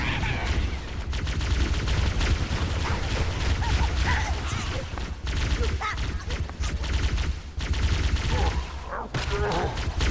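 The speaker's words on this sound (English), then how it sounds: "let's just chuck some grenades, see if that does anything" Grenades are thrown and explode amid gunfire in Halo: Combat Evolved, a dense, loud barrage of overlapping blasts and bursts that continues without pause for the whole stretch.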